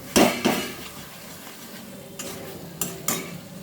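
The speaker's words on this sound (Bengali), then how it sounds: "ব্যাস, এটা ভালোভাবে মিশিয়ে নেব" A hilsa fish head and kochu loti curry stirred in a pan, giving a few scraping, clattering strokes of a utensil against the pan, two early and louder, then a couple of lighter knocks over a soft background sizzle.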